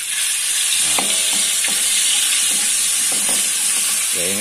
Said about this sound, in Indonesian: jadi tadi bumbu yang sudah kita haluskan kita akan goreng ya